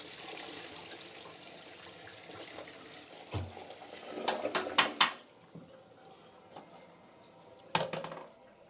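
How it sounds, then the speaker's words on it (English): A toilet flushes after a scrub with a cleaning brush, a rushing swirl of water with sharp gurgles and splashes midway, then a quieter trickling refill, close and fairly clear. "And flush this."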